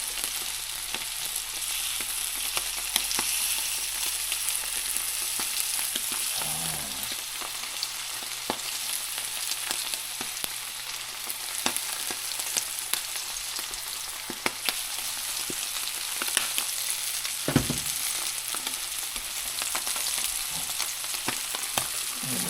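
Capelin sizzle steadily in a hot pan at a cabin in Newfoundland, a dense crackling hiss with scattered pops and a few clanks of stirring.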